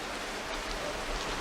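Heavy rain pours down in a dense, continuous hiss of drops with no break and no voices, steady and fairly close for just over a second.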